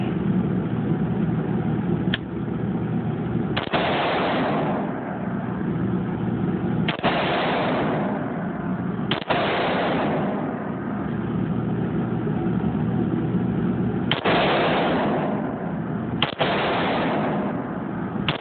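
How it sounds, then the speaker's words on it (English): An AR-15 built on a Yankee Hill upper and lower fires soft point rounds at an indoor range: six loud, sharp shots at uneven intervals, each with a short echoing tail, over a steady ventilation-like roar. "Shooting soft points in here because we're in an indoor range, and see how it operates here."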